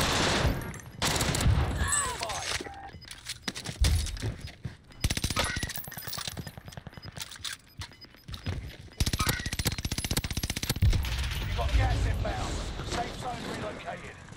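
Gunfire in Call of Duty on Rebirth Island: repeated loud bursts of automatic fire and single shots crack throughout, some close and some further off, with a player's voice talking over the action.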